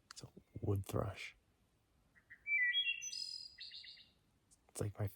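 A wood thrush's fluting song of a few rising, ringing notes, clear and nearby outside a tent on the Appalachian Trail, with a person talking briefly before and after.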